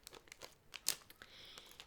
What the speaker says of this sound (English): this is indeed a little Lego type thing in a very crunchy plastic package there